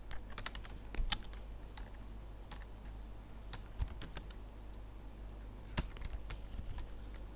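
Keys clicking on a computer keyboard while a heading is typed into Excel 2013 WordArt, irregular taps in quick bursts with short pauses, close and fairly quiet over a low steady hum.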